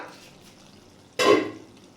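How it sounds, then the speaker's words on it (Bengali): A cooking pot lid is lifted off a pot of simmering watermelon rind curry. A single sharp metallic clink and rush comes near the mic midway, then fades into a soft background hiss. "মিনিট দশেক পরে আমি ঢাকাটা খুলে দিলাম"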